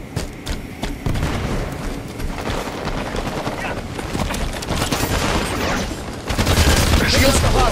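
A grenade blast in Halo 5 Warzone, a loud booming explosion with rumbling low end amid continuous sci-fi gunfire and battle noise, a heavier burst near the end, with voices in the mix.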